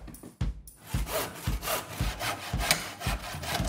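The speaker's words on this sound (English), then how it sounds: "I'm cutting the bench with a handsaw just because I need to be as delicate as possible" A handsaw cuts through the old timber of a bench in steady back-and-forth strokes, each pass a close, rasping rub of wood with no talk.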